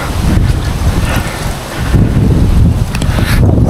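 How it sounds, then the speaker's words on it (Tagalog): Strong autumn wind at a bus stop buffets the microphone in loud, gusting roars that briefly ease and then surge again. "Sobrang lakas ng hangin."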